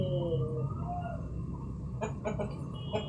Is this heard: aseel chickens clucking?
yes